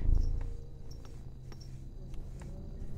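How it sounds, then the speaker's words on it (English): A house cat purring right into a microphone, a close, low, continuous rumbling purr with soft rhythmic pulses and faint ticks behind it, no talking over it. "Can purr into the microphone."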